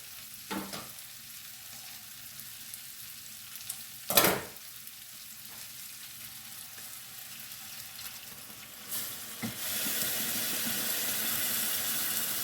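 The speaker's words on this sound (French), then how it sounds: "Alors, ajouter le lait de coco." Coconut milk poured into a hot pan for a Thai green curry with chicken, a few sharp clatters and a splash followed by a loud, steady hissing sizzle that builds and holds to the end.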